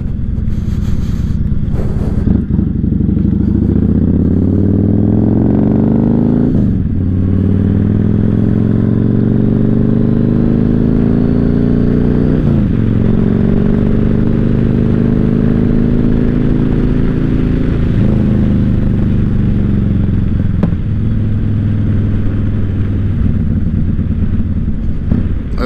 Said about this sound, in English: Again, I'm on a 2008 Yamaha Raider.